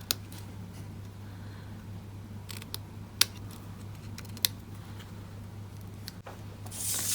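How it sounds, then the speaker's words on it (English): Ribbon scissors snip the ends of a ribbon into banner shapes during card making, a few sharp, isolated cuts over a steady low hum. "I find my ribbon scissors just let me create a straight line so much better. So I'm going to create my banner ends"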